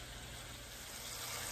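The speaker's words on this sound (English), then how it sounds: "Now that this sauce is sizzling and thickening" A steady, faint crackling sizzle of a thickening taco sauce in a pan, an even hiss with no pauses or voices.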